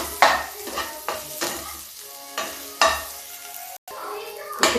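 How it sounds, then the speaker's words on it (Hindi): Onion, garlic and tomato fry over raised gas heat in a pan while being stirred for chana nimona, a steady sizzle broken by several loud scraping stirs, close and with no talk. "गैस थोड़ा तेज कर देते हैं। इसको भूनते हैं अभी।"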